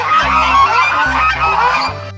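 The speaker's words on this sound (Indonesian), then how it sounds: "muncul seekor angsa" A goose honks loudly and close, in a few repeated nasal calls in quick succession with brief gaps, no talk over it.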